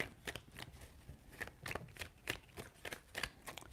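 Tarot cards being shuffled by hand, a quick run of soft riffling bursts in an even rhythm, faint and close, with no talking.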